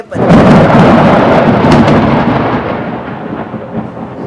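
Thunder rolls before rain on the way to a wedding reception. A loud, deep rumble swells right at the start, holds, then slowly fades over several seconds with no speech over it.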